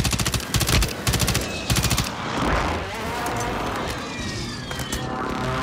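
Rapid bursts of automatic gunfire in Call of Duty, several loud staccato volleys in the opening two seconds, then a sustained rushing roar, like an engine or jet, with faint tonal whines over it.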